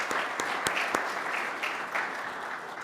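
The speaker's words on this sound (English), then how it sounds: "Let's give a final round of applause to all of them." A congregation applauds steadily during a Unitarian Universalist church service, with dense, even clapping that fades slightly toward the end.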